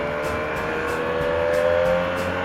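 A Benelli TNT300 motorcycle riding along a muddy trail, its engine droning steadily and close throughout with a constant tonal hum and no voices.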